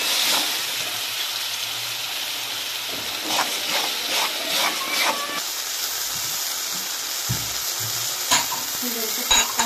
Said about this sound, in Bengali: এই মশলার সাথে টমেটোটাকে ভালো করে ভেজে নেবো।